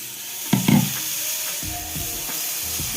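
Bottle gourd dosa batter sizzling as it hits a hot pan, a steady loud hiss with a few crackling spits and scraping stirs near the start.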